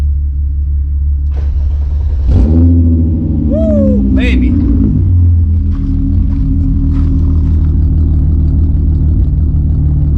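A VW Mk3 VR6 turbo wagon engine idles with a steady, deep rumble, then revs sharply up and back down partway through. A man exclaims briefly over it, and the rumble continues loud and close.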